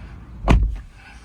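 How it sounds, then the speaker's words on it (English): A single solid thunk as the door of a 2024 Suzuki Fronx crossover swings shut, heard close up and alone, with a short muffled decay afterward. "close the door"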